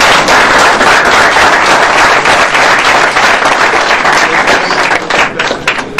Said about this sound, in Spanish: Pido un fuerte aplauso para el senador Ricardo Monreal Ávila.